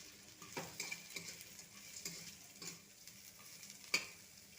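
A handful of curry leaves and chopped green chillies fry quietly in oil, a soft low sizzle broken by scattered clicks and scrapes of a spoon stirring against the pan.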